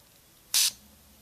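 A single short, sharp hiss of aerosol lubricant sprayed into a DJ mixer crossfader, about a quarter second long, close by against a quiet background.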